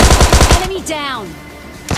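A fast burst of AKM automatic gunfire in PUBG Mobile Lite, loud and close, cuts off after about half a second and is followed by a voice speaking and faint game tones.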